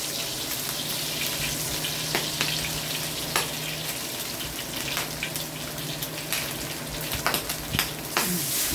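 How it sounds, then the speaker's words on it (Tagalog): Garlic and onion sautéing in a pan for pinakbet, a loud, steady hiss of hot oil with scattered pops and spoon scrapes, close up and uninterrupted by speech. "magigisa na tayo ng bawang tsaka sibuyas"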